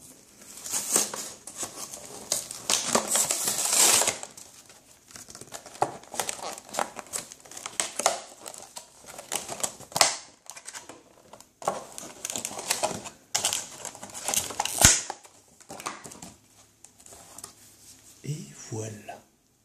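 A Super Smash Bros. Mario amiibo package is unboxed, with close, crisp crinkling, tearing and rustling of plastic and cardboard in irregular bursts, a voice speaking intermittently over it.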